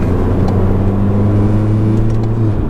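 A Mercedes A45 with a remapped engine cruises steadily, a loud, constant low engine drone with road rumble heard from inside the car.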